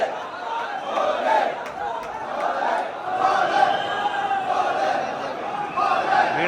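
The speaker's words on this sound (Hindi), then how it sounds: "देखो भक्तों की भीड़ देखो दोस्तों।" A dense crowd of devotees at Mahakal Lok in Ujjain, Madhya Pradesh, fills the air with a steady, loud murmur of many voices, with shouts rising now and then.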